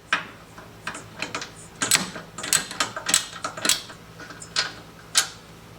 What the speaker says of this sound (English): So first off is to remove this bolt right here, which is a 12mm.